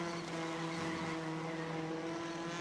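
Race car engine in the iRacing Arcade video game, a steady high-pitched droning whine with stacked tonal harmonics, continuous and fairly quiet, with no talk over it.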